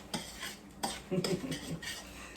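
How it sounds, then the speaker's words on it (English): A spoon stirring roux in a pot for a homemade beef pot pie, scraping and clinking against the metal in short irregular strokes, fairly close and moderately loud. "So we're going to give this a nice stir"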